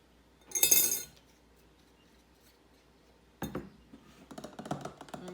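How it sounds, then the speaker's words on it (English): A tablespoon of glycerin added to a glass container for homemade mosquito spray gives a brief bright clink, then quiet, followed by a few softer clinks and knocks near the end, close and faint. "And now I'm going to add 1 tablespoon of this glycerin."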